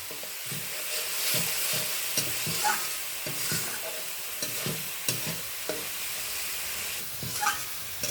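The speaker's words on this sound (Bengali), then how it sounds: "ভালো করে মিশিয়ে নিচ্ছি, মশলাটা কষিয়ে নিচ্ছি" Spice masala stir-fried over low heat in a pan, a continuous sizzle broken by regular scraping and stirring strokes of a spoon, close and alone without talk.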